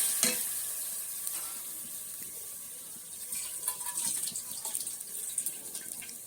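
Bottle gourd frying and being stirred in a pan, a bright continuous sizzle with scraping stir strokes and watery hiss, close and fairly loud, with no voices.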